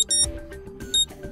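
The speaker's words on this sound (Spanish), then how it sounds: "podemos elegir aquí el tono de la alarma" An alarm tone plays from an Alcatel 1T 10 smartphone: a short, clear electronic melody of bright repeating beeps in a few quick bursts, close and alone with no talking.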